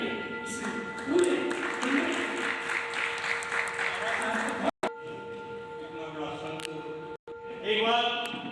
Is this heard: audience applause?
yes